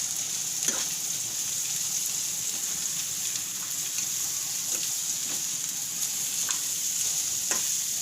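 Potato, chili and cabbage sambharo in a pan, with a steady hissing sizzle and a few light scrapes from stirring now and then, close and even, with no voices.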